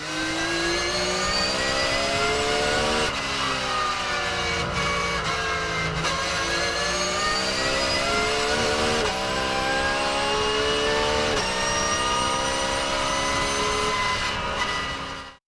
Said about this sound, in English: Number 8 takes us inside the modern GT3 grid with the 992 generation Porsche GT3 R.